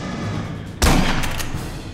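A sudden loud burst of gunfire in the video game Aliens: Colonial Marines erupts partway through, sustained and dense after a quieter stretch of background game noise.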